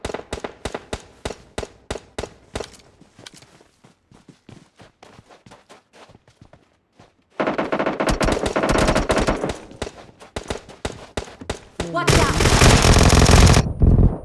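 Gunfire in PUBG Mobile: rapid automatic bursts and single shots, first sharp and spaced, then dense, loud sustained volleys, with the heaviest burst near the end and no talk.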